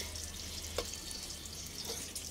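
Garlic fries in a hot pan for Filipino chicken adobo with string beans, a steady soft sizzle with a couple of brief stirring scrapes, close and even, with no talking.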